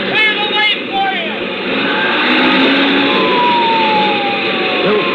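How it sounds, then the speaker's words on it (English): A fire engine siren wails in rising and falling sweeps over a loud, rumbling engine as the truck races ahead in a runaway-truck scene on the Cajon Pass, a dense, close and continuous sound effect. "Sirens screaming, red lights flashing."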